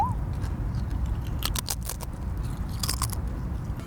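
Crispy nacho cheese snack chips are bitten and crunched outdoors, with a few sharp, close crunches in clustered bursts over a low background rumble.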